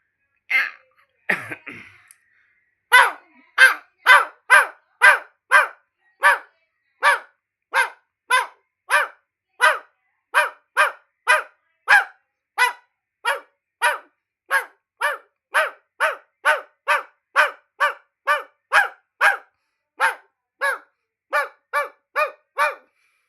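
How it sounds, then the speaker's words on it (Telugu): A steady series of deep, loud barks from a big dog, about thirty in all, evenly spaced and close by, with a brief scuffling sound near the start. "ఇది పెద్ద కుక్క వాయిస్ అండి"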